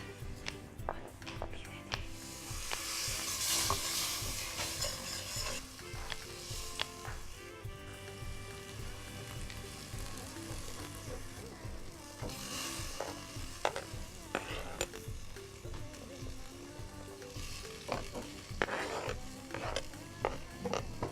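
Dough frying in hot fat in a pan in a kitchen, a steady sizzle with stirring and scraping clatter, while people talk over it intermittently.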